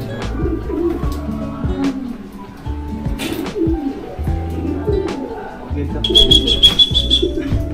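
Racing pigeons coo at a loft after a 241 km training race, low repeated throaty coos close by, mixed with people talking and a brief electronic beep near the end.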